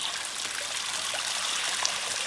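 Water trickling and splashing gently in a garden pond in Cumbria, a soft continuous bubbling stream with small drips, fairly close and steady.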